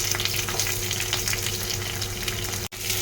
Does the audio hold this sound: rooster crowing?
no